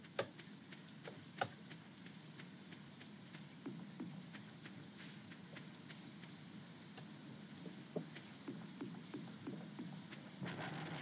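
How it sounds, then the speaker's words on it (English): Rain falls steadily in Stardew Valley with a constant hiss and scattered sharp drop-like ticks, faint and continuous throughout with no voices. Any thunder is not clearly distinct. "I hope that I will not get hit by the thunder."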